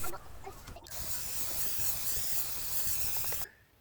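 A can of black spray paint hisses in one steady burst lasting a few seconds, close up, then cuts off abruptly.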